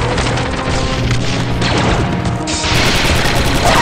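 Blaster fire in the Star Wars: Republic Commando video game, played on PS5: a dense, loud wall of booming shots and crashing impacts that runs unbroken through the whole stretch, with no talk.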